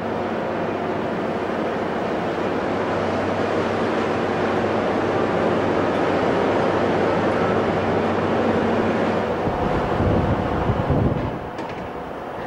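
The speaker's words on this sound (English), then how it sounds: "The next morning, the sea is rough." Rough sea surges around a supply ship, a steady broadband roar of wind and breaking waves with low rumble underneath, easing slightly near the end.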